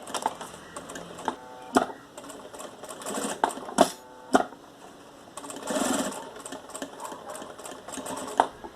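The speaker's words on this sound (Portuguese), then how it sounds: "vou passar uma costura na beirada aqui" A sewing machine stitches a seam along the folded edge of fabric with a small mesh between the layers, for a jewelry holder, in several short rattling bursts separated by brief pauses and handling clicks.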